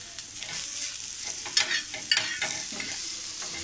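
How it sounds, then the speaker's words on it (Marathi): Chopped onion frying with salt in a pan while being stirred: a steady soft sizzle with scraping and clinks of the spoon, close and fairly quiet, with no talking. "थोडं आपण मीठ टाकूया म्हणजे कांदा आपला जरा लवकर भाजला जाईल"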